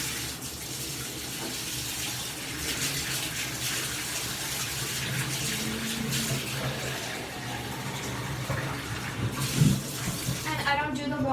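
Water runs and splashes steadily from a tap into a tub while a silicone doll is being bathed, a close, continuous gushing wash with a soft voice faintly underneath and a brief clatter near the end.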